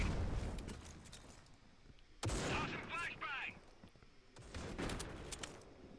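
Gunfire in the mobile shooter Critical Ops during a tournament match, sharp shot bursts and short volleys at moderate distance, with commentary spoken over it.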